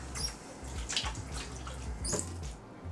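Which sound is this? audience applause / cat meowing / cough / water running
water running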